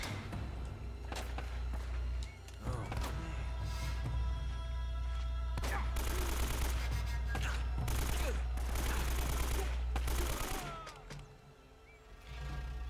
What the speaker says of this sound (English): Six shots. That's all I need.